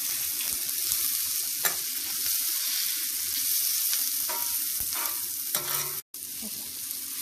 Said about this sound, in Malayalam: ഇഞ്ചിയും വെളുത്തുള്ളിയും കൂടി ഇട്ട് അത് കുറച്ചൊന്ന് നല്ലോണം ഒന്ന് മൂത്തോട്ടെ.